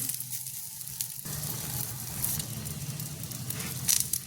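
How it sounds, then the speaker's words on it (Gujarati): A half-cooked roti sizzles in oil on a hot tawa griddle while making a veg frankie, a steady crackling fry that starts abruptly and continues, with small pops and brief louder spatters near the end. "કાચી પાકી શેકેલી આ રોટલીને પાછી આપણે તવી ઉપર શેકી લેશું"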